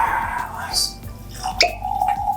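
Barrel rested gin being poured into glasses, with short trickling and dripping splashes of liquid and a small clink, heard close up under a quiet room background.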